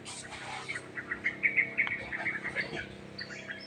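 A pigeon gives a quick run of short, close calls, soft and irregular against a quiet background.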